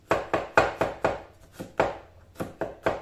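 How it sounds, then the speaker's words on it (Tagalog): Knife chopping ingredients such as langka, saluyot and tomato on a cutting board for stir-fried chicharon bulaklak, a dozen crisp, close strikes in a quick, slightly uneven rhythm with nothing else around them. "maghiwa na tayo ng ating mga sangkap."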